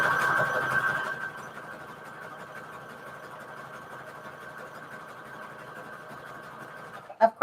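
A sewing machine stitches through paper for a Christmas junk journal with a steady, even whirring hum. It runs loudest at first, then settles softer and ends with a small clunk.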